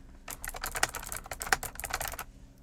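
Quick typing on a 1STPLAYER K6 mechanical-feel gaming keyboard with GK3 switches, a close run of crisp but softer key clacks in an uneven burst of about two seconds.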